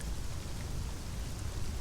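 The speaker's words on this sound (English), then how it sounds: "Raindrops tip-tapped on the skull." Steady rain in the video game Sunless Skies, a dense, even patter of drops with low rumbling underneath, continuous and close with no voices.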